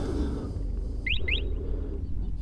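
A Lifan KPM 200 motorcycle alarm being armed gives two short, bright chirps in quick succession over steady low outdoor rumble.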